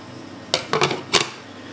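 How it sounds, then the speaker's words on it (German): Plastic cup of an Eheim Skim Marine 800 protein skimmer is set back on top, giving a few quick close clacks and clicks of plastic against plastic in a quiet room. "So, dann mache ich hier oben den Topf nochmal drauf."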